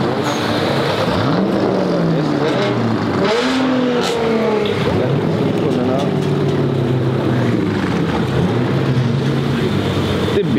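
A turbocharged Honda car revs its engine at a rainy car meet, with rising and falling engine tones among other idling and passing cars, close and loud under steady crowd noise and voices.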